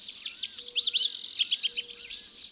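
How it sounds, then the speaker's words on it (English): A dawn chorus of birds sings in trees in a canyon, dense overlapping high chirps and trills close by with a few slower repeated whistled calls beneath. "The birds lower down join the chorus as the light reaches deeper into the canyon."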